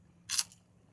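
A single crisp crunch of teeth biting into crunchy chicharon (pork rinds), close and brief over a quiet background.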